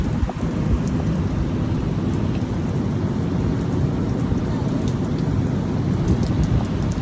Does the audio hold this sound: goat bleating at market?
no